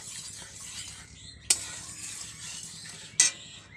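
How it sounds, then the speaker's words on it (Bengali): A spoon stirs ghee into hot water in a cooking pot, a soft, continuous scraping swirl with gentle bubbling and two sharp metallic clinks against the pot. "গাওয়া ঘিটা দিয়ে ভালো করে নেড়ে নিচ্ছি"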